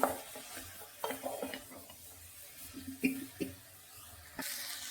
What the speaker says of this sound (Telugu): గోరుచిక్కుడు కూడా బాగా వేయించుకొని